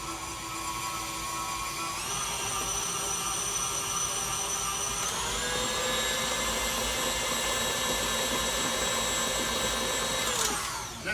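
Electric hand mixer beating lemon pound cake batter in a kitchen: a steady, loud motor whine running throughout, shifting up in pitch a couple of times as the speed changes, with no talking.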